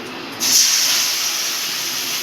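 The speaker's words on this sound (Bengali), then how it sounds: "অল্প তেল দিয়ে এবার আমি এর মধ্যে সাদা সর্ষে আর লঙ্কা বেটে রেখেছিলাম, এটা আমি এর মধ্যে দিয়ে দেবো" Ground white mustard and chili paste dropped into hot oil for a stuffed pointed gourd and prawn dish, giving a sudden loud hissing sizzle that then holds steady, close by.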